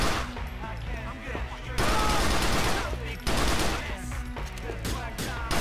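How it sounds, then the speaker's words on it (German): Automatic pistol gunfire in GTA IV: The Lost and Damned, loud rapid bursts of shots in several clusters with brief gaps, close and dominant throughout with no talk over it. "Nehmen wir doch mal unsere automatische Pistole."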